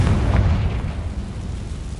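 A Confringo explosion spell goes off in a Harry Potter video game as a deep, rumbling boom that fades slowly over about two seconds.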